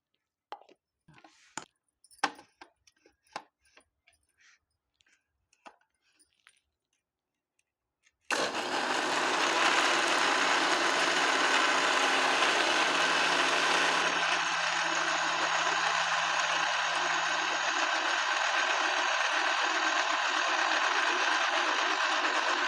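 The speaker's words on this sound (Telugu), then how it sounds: "ఇది ఇప్పుడు మెత్తగా మిక్సీకి పట్టుకుందాము." A kitchen mixer grinder blends eggs and buttermilk into a plant liquid, preceded by scattered clicks and knocks, then the motor roars on loud and steady, dropping slightly in pitch partway through and running on to the end.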